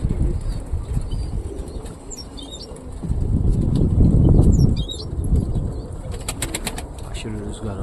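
A tumbler pigeon lands after a long tiring flight in wind, its wings flapping in a loud burst of fluttering near the middle, with outdoor ambience, faint chirps and some talk around it.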